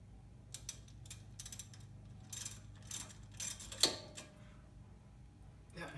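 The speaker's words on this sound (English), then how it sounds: "I'm just going to come in with a 12mm socket and snug it down." A 12mm socket wrench ratchets in short, close bursts of clicking as it snugs strut hardware on a Honda Odyssey, with brief pauses between runs and a louder metallic clank near the middle.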